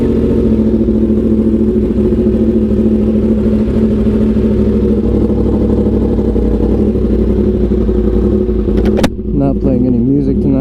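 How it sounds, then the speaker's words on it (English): A Yamaha R1 sport motorcycle engine runs loud and steady at a constant drone, then cuts off abruptly near the end, leaving a quieter idle-like hum. "let's hear a nice little start on this bike now"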